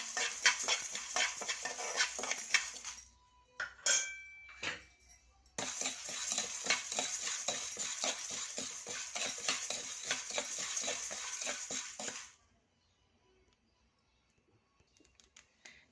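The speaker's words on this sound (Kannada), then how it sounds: "ಒಂದು ಎರಡು ಸ್ಪೂನ್ ಜೀರಿಗೆ ಇದಕ್ಕೆ ಕಾಲು ಸ್ಪೂನು ಸಾಸಿವೆ ಹಾಕ್ತಾಯಿದ್ದೀನಿ ಹುರ್ಕೊಳ್ಳಿ ಇದನ್ನು" Cumin and mustard seeds roasting in a pan for a Kannada pepper rasam, with dense crackling and scraping stirring strokes that pause briefly, then die away into near silence near the end.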